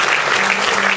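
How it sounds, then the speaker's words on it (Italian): Loud, full applause fills a theatre at the close of a solidarity show, a thick continuous roar of many hands clapping together. "E l'ultimo applauso, fatevelo voi"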